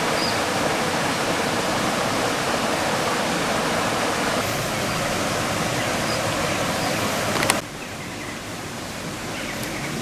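A clean stream flows down from upstream in Çermik, Turkey, a steady loud broadband rush of water running without pause, close by, with no voices.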